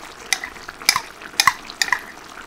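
A spoon scrapes and clinks in a pot as canned tuna, vegetables and seasoning are mixed into a simmering potato dish, four or five short close stirring strokes with no talking.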